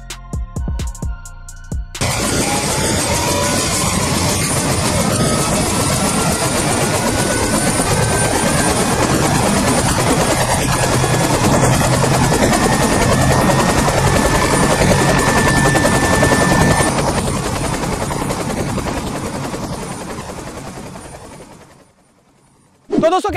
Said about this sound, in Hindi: और अब बस ये साउंड एंजॉय करो हेलीकॉप्टर का।